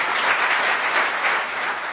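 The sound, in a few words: audience applause welcoming a speaker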